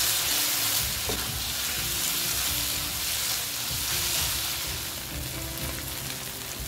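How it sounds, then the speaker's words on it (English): Tinned chili tuna and vegetables fry together for fried rice over a medium flame, producing a loud, dense, continuous sizzle close by that stays steady throughout, with no talking. "Then fry everything together for a minute."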